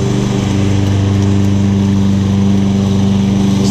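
A Husqvarna 22-inch push lawn mower with a gator-style blade and bagger runs loud and close, its engine holding a steady, even drone with strong low harmonics and no talk.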